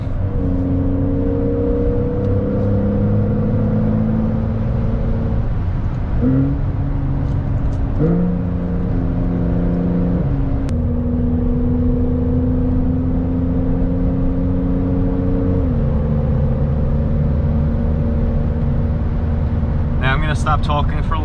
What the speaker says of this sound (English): just let you guys enjoy the beautiful sounds, the 911 Carrera 4 GTS